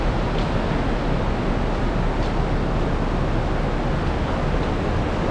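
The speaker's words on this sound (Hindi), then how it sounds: "यहाँ पे देख लीजिए झरना बह रहा है" A waterfall on the mountain trek to Kedarnath gives a steady, broadband rushing roar with no breaks, loud and enveloping throughout.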